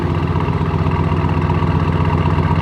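An 1100 hp Audi RS6 Avant wagon's engine drones with its exhaust valves open, a loud, steady, deep rumble sustained throughout with no talking.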